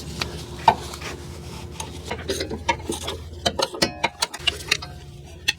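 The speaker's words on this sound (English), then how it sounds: "then we're going to tighten this bolt. It's again a 12 millimeter." A 12 mm bolt on the belt tensioner of a Toyota Highlander's 1MZ-FE engine is tightened by hand, with a series of close, rapid ratchet clicks and scraping metal contact, sharper toward the end.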